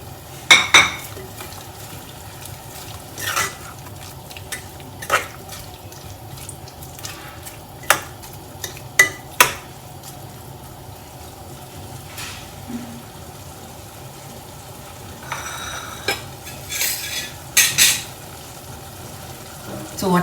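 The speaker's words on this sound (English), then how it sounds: "Mix it well and all the onions." A utensil scrapes and clinks against a pan while meat and onions are stirred, scattered sharp taps over a faint quiet background.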